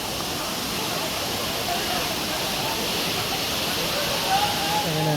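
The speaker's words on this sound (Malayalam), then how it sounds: "അതാണ് ഫൈനൽ അരീക്കൽ വാട്ടർഫാൾസിൻ്റെ ഒരു ലുക്ക്" Areekkal waterfall pours with a continuous broad roar of rushing water, loud and steady throughout, with faint birdsong over it.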